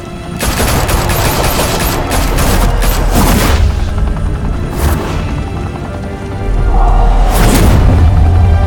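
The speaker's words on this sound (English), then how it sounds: "Open fire!" Heavy sustained gunfire in a Batman game, loud continuous bursts of automatic fire with booming impacts, briefly easing before surging again near the end.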